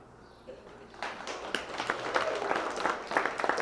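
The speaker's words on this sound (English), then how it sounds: "please give these hardworking individuals a big round of applause" Audience applause at a Brown Swiss cattle show in Wisconsin: clapping builds from scattered claps into steady, moderately loud applause from a crowd, with a voice over the start.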